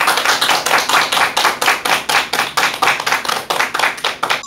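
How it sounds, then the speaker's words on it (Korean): A lecture audience claps to welcome a speaker to the stage. The hand claps are loud and close, falling in a fast, regular rhythm of sharp, evenly spaced beats that continue unbroken from start to finish. "큰 박수 부탁드립니다."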